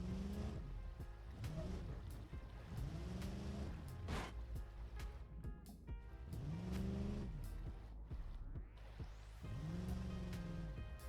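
A 1979 Dodge Ramcharger in BeamNG Drive grinds along off-road, its engine note rising and falling in repeated revving swells over a constant rumble, with rattling and crunching terrain noises layered in.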